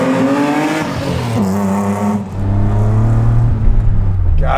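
A supercharged BMW E30 325is, a roughly 400 whp track car, accelerates hard with a loud, continuous engine note. Its revs climb, dip briefly at a gear change, then rise again through the next gear, heard from close by.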